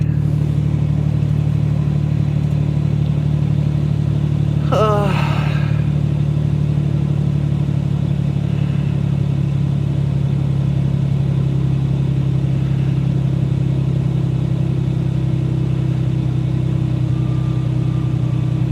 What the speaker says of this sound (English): No, I'm just running the truck for a bit here.